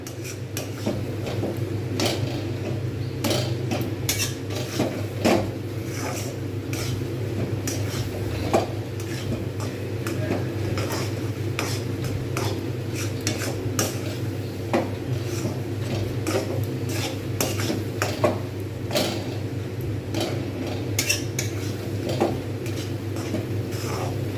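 Fried rice being stirred continuously in a thick-bottomed wok over high heat for rice laddu, a steady, busy scraping and rattling of the utensil against the metal that continues at an even level throughout.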